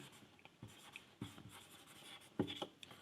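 Marker or chalk writing a book name on a classroom board, heard as a series of short scratchy strokes in irregular bursts, close but quiet, with no talk.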